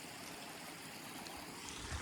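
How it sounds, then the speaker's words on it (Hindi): Water from a mountain spring on a high Himalayan meadow flows in a steady, continuous trickle, close and moderately quiet, with no voices over it. "और ये पानी देखो वहाँ से निकलता है, डायरेक्ट वहाँ से निकलता है"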